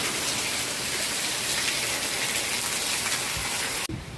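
Heavy rain driven by strong wind in Banyuwangi makes a dense, steady hiss and patter on surfaces close by, unbroken until a sudden cut near the end.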